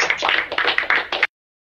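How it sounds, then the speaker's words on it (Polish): A live audience at an aquarium-fish talk gives a short burst of clapping: dense, quick hand claps lasting just over a second, then cutting off abruptly into silence. "Dajmy czas na brawa."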